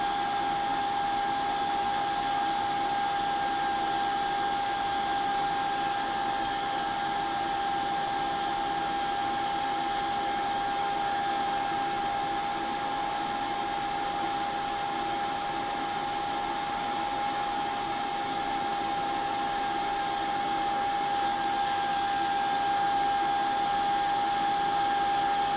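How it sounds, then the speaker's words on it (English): A hair dryer blows continuously to speed up the drying of artwork, a steady whooshing airflow with a constant whine held at even volume throughout. "just going to spray this with a hairdryer and try and speed that up"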